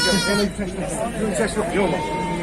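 Lambs bleat in short wavering cries at a busy outdoor sheep market, close and mixed in with steady chatter from people talking nearby.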